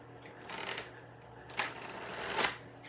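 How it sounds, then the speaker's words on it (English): A Revelations Tarot deck being shuffled by hand gives soft, quiet riffling rasps in three short bursts, close up and alone. "I'm going to give it a couple more shuffles for you."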